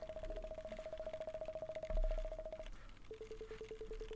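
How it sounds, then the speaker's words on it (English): A telephone rings in a video game, a thin pulsing electronic tone that repeats rapidly for over two seconds, pauses, then resumes at a lower pitch, quiet overall with a soft thump midway. "something's ringing"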